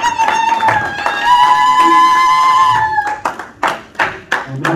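A church congregation claps rhythmically in joyful acclamation during a French-language worship service; sustained tones ring for the first few seconds, then sharp, separate handclaps ring out near and loud.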